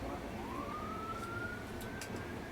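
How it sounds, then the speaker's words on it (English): An ambulance siren wails faintly in the distance, a single rising and sustained tone drifting behind the steady crowd and wind noise at a country football match. "in the background there, sound like the siren went off. It was an ambulance."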